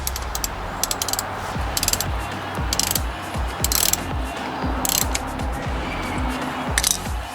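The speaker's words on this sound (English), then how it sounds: "I'm just going to go ahead and tighten this up now. Snug this axle down." A ratchet wrench tightens the rear axle nut on a Yamaha PW80 dirt bike, giving rapid metallic clicking in repeated strokes, fairly close and loud over a steady low background hum.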